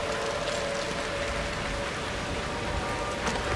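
Steady rain falls in the horror game Outlast 2, a dense continuous hiss of drops on surfaces, even and loud throughout with no voices.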